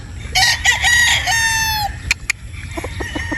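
A Sweater Boston bloodline gamefowl rooster crows once, loud and close, with a long harmonic call that ends in a few short clucks over low background noise.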